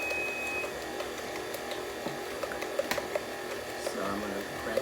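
An electric mixer blending cheesecake batter with eggs, giving a steady, close whirring drone that runs without a break, with faint light ticks and knocks on top.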